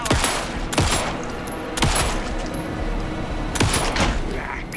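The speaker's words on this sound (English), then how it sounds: "Anderson, pin him down with gunfire for me to get the light on him." Video game gunfire in Alan Wake 2, heard as several sharp, loud shots at irregular intervals with rumbling tails and tense ambience between them.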